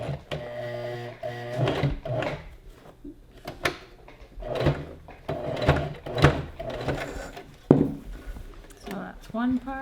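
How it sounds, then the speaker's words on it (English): A sewing machine stitches down the gathers of a skirt, running in short, close bursts separated by brief pauses. "And sew it down."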